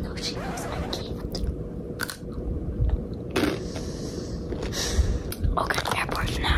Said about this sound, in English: My sister's eating doggies even though she knows I can't.